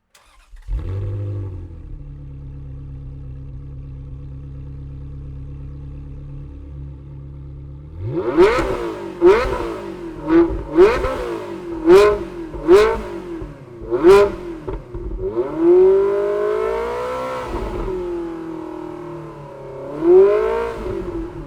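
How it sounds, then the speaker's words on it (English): A 2004 Ferrari 360 Challenge Stradale starts and idles steadily, then gives a series of about six sharp, loud throttle blips followed by longer rising revs, close by and with no talking. "we kick things off with a 2004 Ferrari 360 Challenge Stradale, or CS for short"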